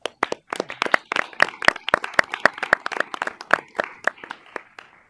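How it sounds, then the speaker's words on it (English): A small audience at a school board of education meeting claps for a departing member, with distinct, sparse individual hand claps rather than a dense roar, irregular and moderately close. "So one more big round of applause for Mr. MP."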